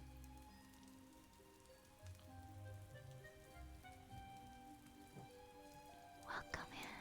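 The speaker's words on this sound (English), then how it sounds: "We are hanging out in the rain tonight." Rain patters steadily and softly on a surface at night, a faint, close, even wash with occasional louder drips, and a quiet voice murmurs under it.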